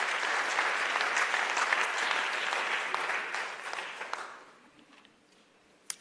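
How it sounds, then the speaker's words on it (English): Attendees at a BRICS youth trade convention clap for the speakers, a full burst of crowd applause that holds steady and then thins and fades out over the last couple of seconds. "give NYDA a round of applause for the"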